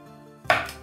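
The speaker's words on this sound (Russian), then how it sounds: "Яблоки нарезаем на четвертинки" Single crisp knife cut through an apple being quartered, one close sharp chop after a quiet pause, no voices.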